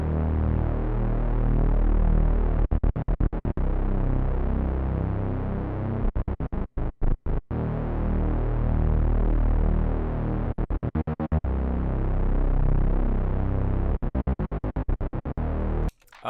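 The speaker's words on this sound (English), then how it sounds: "the sub bass that basically plays right before the beat drops," A hyperpop sub bass pattern tuned to the melody, playing before the beat drop: a loud, continuous, distorted low throb that cuts out in short rhythmic stutters at several points and stops abruptly at the end.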